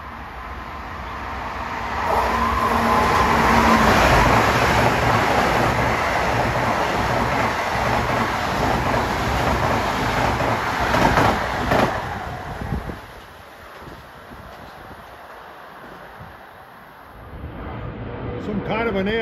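A Long Island Rail Road train runs from Grand Central toward Ronkonkoma past Merillon Avenue station. A loud, broad rumbling roar swells and holds for several seconds, then fades off into quieter surroundings.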